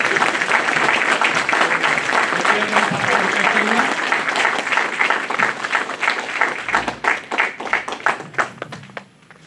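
A large audience at a Bar Council of Delhi enrolment meeting breaks into loud, sustained applause filling the hall, with some murmured voices underneath before the clapping thins into scattered individual claps at the end.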